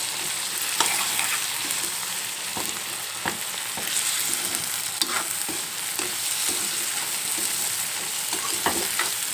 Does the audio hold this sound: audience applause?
no